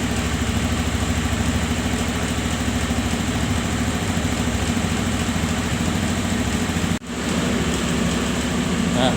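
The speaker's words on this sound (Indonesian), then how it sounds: "di sini sudah terlihat putaran mesinnya sebesar 1620" An automatic scooter engine idles steadily at around 1600 rpm during electronic fuel system maintenance. The close, continuous hum is broken by one brief dip near the end, and no one speaks.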